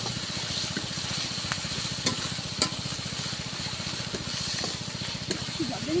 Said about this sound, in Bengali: এখন সব মশলাগুলো একটু ভালো করে ভেজে নেবো